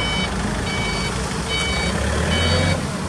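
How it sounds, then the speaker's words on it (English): Repeated reversing beeps from a Hangcha FD35 dual pneumatic tire forklift with 7,000 pound capacity, evenly spaced high tones sounding three times over a steady low engine rumble, close and fairly loud. "This is a dual tire, pneumatic tire forklift."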